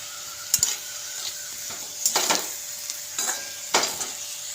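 Spiced potato slices being stirred in a pan, with a low steady sizzle broken by several distinct scraping strokes of a spoon against the pan at irregular intervals.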